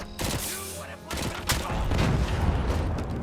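Gunfire and booming grenade blasts from the Robocop: Rogue City video game, a dense fusillade of shots and thuds running continuously and fairly loud, with a voice briefly heard under the noise.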